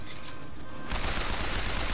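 Rapid gunfire from Bioshock Infinite bursts in abruptly and close after a brief quieter lead-in, a dense sustained volley filling the rest of the moment with no talk.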